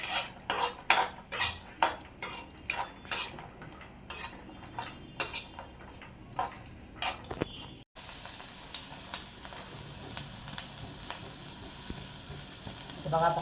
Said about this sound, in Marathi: बघा आपण खोबरं असं लालसर भाजून घेतलंय